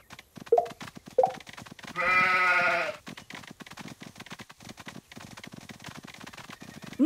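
Sheep bleating in a Paw Patrol children's video game, one long wavering cartoon baa in the middle and shorter calls before it, over a quiet clicky game soundtrack.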